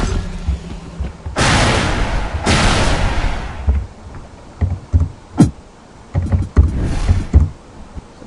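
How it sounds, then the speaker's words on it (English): Custom primary-fire blasts from a shock rifle in UDK (Unreal Development Kit, December 2011 build), with two long, loud roaring bursts followed by a run of shorter, sharper zaps and pops, with no talking. "when we use our primary attack, we're going to get that sound instead of the one that comes default with the shock rifle"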